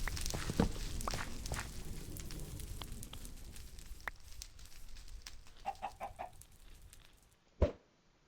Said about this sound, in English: Oh, king chicken.